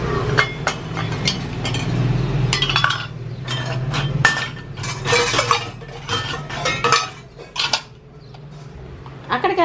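Dishes and steel vessels clink and clatter as they are put away in a home kitchen, with many sharp metallic knocks in irregular bursts, close and loud, and people talking between them.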